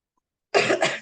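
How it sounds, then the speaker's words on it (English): A woman gives one close, loud cough, a sharp double burst after a half second of silence. "I'm sorry with that coughing."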